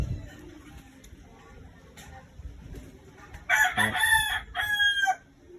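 A rooster crows loudly near the end, a couple of harsh drawn-out calls over faint background noise and distant murmuring.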